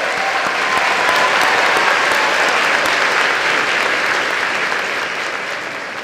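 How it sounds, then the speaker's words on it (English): A large graduation ceremony audience applauds a pipe and drum band, dense sustained clapping that fills the space loudly and evenly before gradually easing off toward the end. "can you all give me a big round of applause for our Sounds of Scotland pipe and drum band?"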